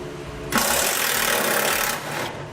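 A power ratchet whirs loudly for about one and a half seconds, removing the 13mm bolt that holds the parking brake cable to the frame of a 2012 Ram 3500, then winds down with quiet around it.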